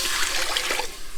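Water pours into a stock pot being readied for crab legs, a close, continuous gushing splash that stays steady for about a second with no voices.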